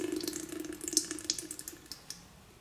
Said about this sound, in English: Loosen a few turns and allow all fuel to drain